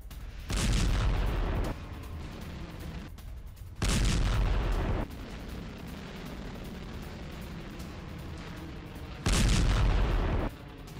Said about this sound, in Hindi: गाजा बॉर्डर से इजरायल की बमबारी देखने को मिल रही है।